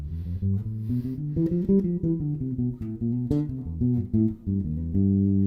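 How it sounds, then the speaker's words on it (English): Warm, round bass guitar notes plucked softly with the side of the finger, giving a mellow attack, a continuous melodic line moving up and down, played alone without any talking. "So I'm actually not plucking with the tip of the finger, I'm playing with the side."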